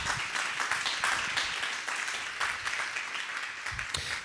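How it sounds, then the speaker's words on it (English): A Lake Bluff village board town meeting gives its village candidates a round of applause, a moderate crowd clapping steadily in a room, fairly even and mid-level throughout. "how about a nice round of applause for our village candidates tonight?"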